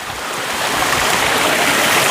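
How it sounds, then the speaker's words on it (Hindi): A mountain stream and waterfall roar close by in a steady, loud, broadband wash of rushing water that never lets up. "मस्त सा वाटरफॉल पड़ता है भाई एक"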